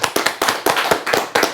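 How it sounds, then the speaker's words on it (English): A small group claps hands in a podcast studio, roughly a dozen sharp, close claps in an uneven rhythm with no talk. "Clap it up before Mike."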